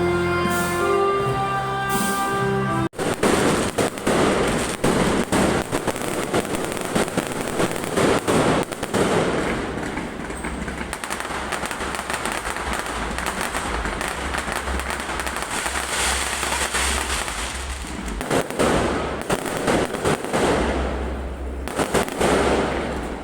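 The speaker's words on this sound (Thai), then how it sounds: "พร้อมด้วยจุดพลุค่ะ" Fireworks at an amusement park in Taipei, Taiwan: after a brief musical opening, a long continuous barrage of loud crackling bursts and booms, dense and sustained with fluctuating intensity.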